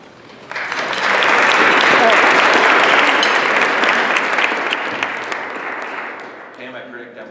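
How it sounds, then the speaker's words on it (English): An audience at a congressional luncheon breaks into loud applause, a dense wash of clapping that holds steady for several seconds and then gradually thins out. "I predict that will be the last applause for you."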